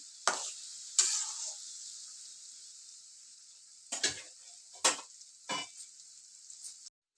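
Mustard seeds and chopped onion splutter in hot oil: a steady high sizzle broken by several sharp bursts of popping and crackling, close and moderately loud, with no voices.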